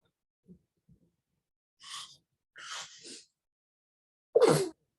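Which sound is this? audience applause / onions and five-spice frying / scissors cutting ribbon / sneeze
sneeze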